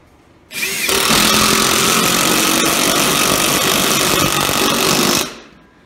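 A power drill whirs loudly and steadily through a big piece of treated lumber for about five seconds, starting and stopping abruptly, with no talking.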